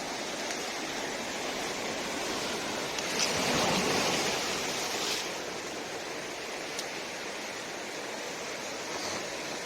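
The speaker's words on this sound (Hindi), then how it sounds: "समुद्र में उठ रही लहरें, पत्थरों से टकरा रही लहरें" Sea waves wash and crash against rocks in a continuous broad roar that swells briefly louder midway, then settles back to a steady surge with no voices.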